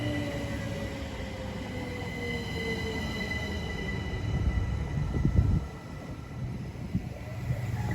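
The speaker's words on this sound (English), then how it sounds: "here's a service from Didcot Parkway going to London Paddington" A passenger train from Didcot Parkway to London Paddington passing Pangbourne on the Great Western Main Line: a steady, loud rolling rumble with high, sustained wheel squeal tones and rhythmic clatter as it runs by.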